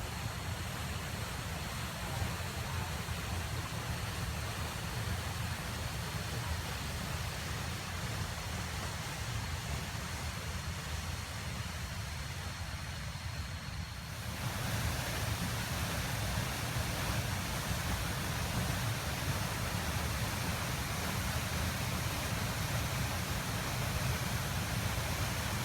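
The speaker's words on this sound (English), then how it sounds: "The waterfall from the height around 11 meters created the very faint thunderous sound" A waterfall about 11 meters high at Way Lalaan, Lampung, pours with a steady, dense roar that fills the whole clip and stays constant, with a slight swell in loudness partway through and no voices.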